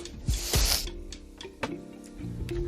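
A 3D printer runs in a home room, giving close mechanical whirs, clicks and ratcheting gear sounds in uneven bursts, with no talk.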